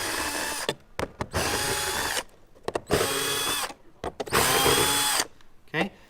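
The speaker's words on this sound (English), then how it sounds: "we're going to go ahead and grab our screwdriver and pull these off" An electric drill-driver backs screws out of a panel while upgrading HM Parts Gen3 to Gen4, running in four loud, close bursts of roughly a second each, separated by short pauses and clicks.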